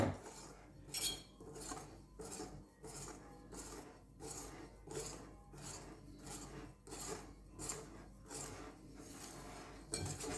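Pineapple upside-down cake batter, creamy and fairly runny, mixed in a bowl with a utensil, giving rhythmic scraping and rubbing strokes in steady repeated bursts, close and moderately loud.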